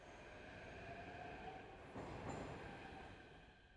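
Steady train rumble and rolling rail noise from the video game Beholder, a continuous low mechanical roar with a brief swell midway, fairly quiet and without talk.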